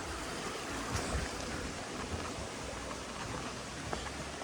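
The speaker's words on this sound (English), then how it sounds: "there's a nice little river flowing pretty well." A small river flows along the Appalachian Trail, a soft, continuous watery rush with faint irregular splashes, fairly quiet and steady, with no talking.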